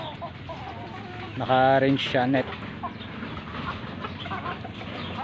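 Jersey Giant chickens at a backyard farm give a short run of loud clucks in the middle, with a voice talking over the low farmyard background.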